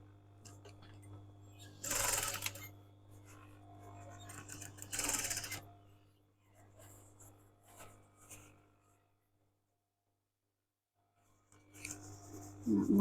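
A sewing machine stitches fabric in two short, bright bursts and a third near the end, quiet between, with faint handling noise and a low steady hum.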